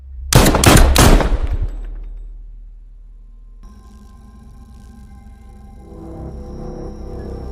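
A quick burst of several sharp, very loud gunshots from a film scene rings out at the start, then a long decaying ring fades into a quiet hum with faint tonal sounds.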